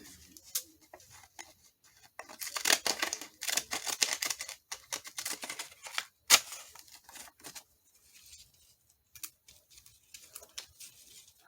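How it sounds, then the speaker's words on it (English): Design scissors trim a paper card for Christmas artist trading cards and tags, quick irregular snips and crisp paper rustles close by, coming in bursts with short quiet gaps and no talk. "Let me get my design scissors."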